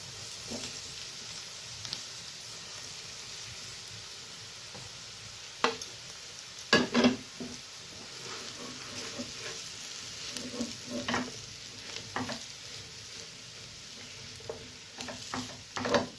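Boiled potato sizzles steadily in a hot pan for patties, with a soft continuous frying hiss broken by several louder scraping stirs and spatula knocks, heard up close with no voices.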